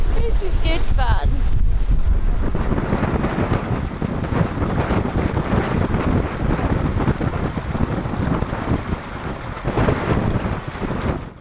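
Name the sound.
strong wind on a sailboat during a yacht race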